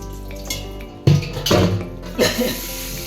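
Bottle gourd being rinsed under a running tap, with short bursts of splashing water and handling sounds in a kitchen, broken by brief quiet gaps.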